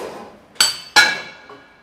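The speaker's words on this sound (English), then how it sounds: "Let's take a 20 millimeter part that we just cut out of our machine." A freshly laser-cut 20 millimeter metal part, cut with mixed gas on a Bystronic machine, is handled: two loud, close metallic clanks with bright ringing tails, followed by a fainter third knock.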